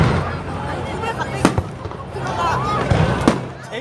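Fireworks explode at a festival in a steady wash of crackling and popping, with a few sharper bangs standing out, while nearby voices and crowd noise carry on underneath.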